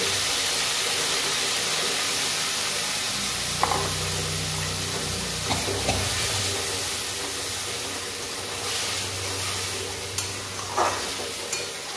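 Mustard and poppy seed paste frying in a pan, a steady close sizzle with a few soft stirring scrapes and clicks, no talk.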